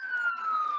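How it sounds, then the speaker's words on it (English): A police car siren wails steadily as a cop car with lights blazing approaches on a one-way street, a loud sustained tone that slides slowly downward without a break. "He's got his emergency siren on."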